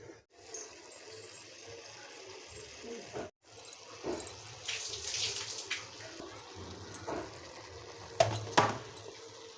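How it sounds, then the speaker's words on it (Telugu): Minced mutton is rinsed with salt under running water in a sink, with irregular splashing, gushing bursts and squelching handling, plus brief clatters from the container. "కీమాని నీట్గా ఉప్పు వేసి కడుక్కోవాలి."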